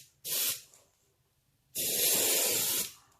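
An airbrush spraying paint at 25 PSI onto miniatures during basecoating, a short hissing burst followed by a pause and then a longer, steady, close spray hiss, with no talking.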